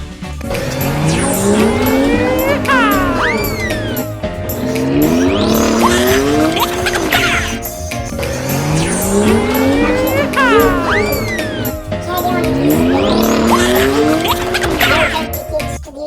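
Cartoon car sounds for a police vehicle on its way to help, with repeated tire squeals and skids over a revving engine, loud and close in several bursts across the span, set against a busy music-like backdrop.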